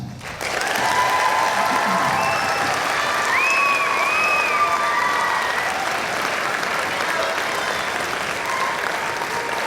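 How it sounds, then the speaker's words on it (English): Loud, sustained applause from a large audience at a junior high region band concert, steady and dense throughout, with a few cheers and whistles rising above the clapping. "Applaud your children one more time."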